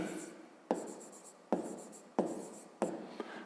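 Handwriting during a fifth-grade geometry exercise: a pen or chalk scratches and taps in short strokes, with four or five sharp contacts about every half second, quiet and close.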